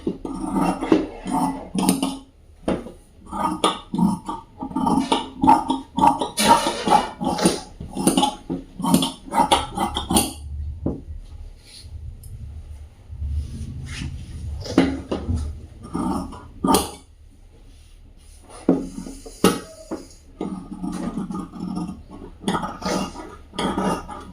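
Scissors cut through blouse fabric in crisp, repeated snips and clacks, close and fairly loud, with a quieter stretch midway before the cutting resumes.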